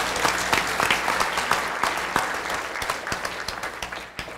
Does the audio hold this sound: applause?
yes